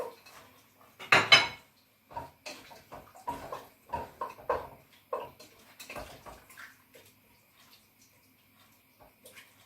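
Dried fruit, raisins, tipped into a tagine pot, making a quick run of light clinks and taps against the cookware, one louder clatter near the start, then scattered softer ticks trailing off, close by with no speech.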